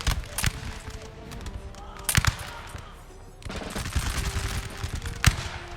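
Scattered musket volleys crack across a Napoleon Total War town battle, sharp near shots punctuating a continuous rattle of distant gunfire and bullets ricocheting off buildings.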